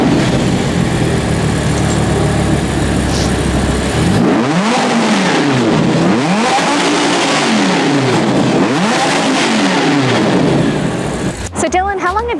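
A 2014 Audi R8 LMX engine revs up repeatedly in rising and falling sweeps after a steady idle, loud and close, ending with a sharp blip.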